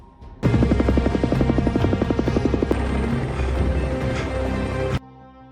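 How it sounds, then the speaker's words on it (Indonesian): A military helicopter's rotor thumps rapidly and loudly for several seconds, chopping steadily before cutting off abruptly. "Jack langsung dijemput sebuah helikopter militer untuk menuju Baltik."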